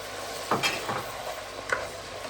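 Wilted onions and peppers fry in a pan with a spoonful of tomato paste, giving a soft sizzle under a few distinct scraping strokes of a spoon being stirred through. The sound is close and fairly quiet.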